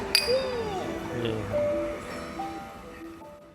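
One sharp glass clink from a toast rings out at the start, then fades under low voices and background murmur, at a roadside station in Japan's Tohoku region.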